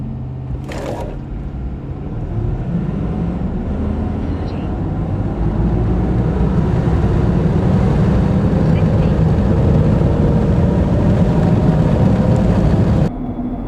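A tuned 2020 Ford F250 with the 6.7 Powerstroke diesel engine drones loudly and builds steadily in pitch as it revs, then cuts off abruptly near the end, with people talking over it.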